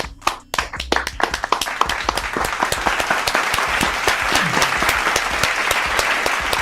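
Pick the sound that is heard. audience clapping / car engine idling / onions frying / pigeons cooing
audience clapping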